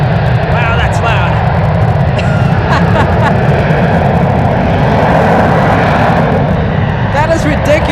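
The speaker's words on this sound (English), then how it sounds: "Ridiculously loud plane. That's 737." A Boeing 737 roars past at San Francisco airport, its engine noise loud, broad and sustained throughout, with a voice speaking over it.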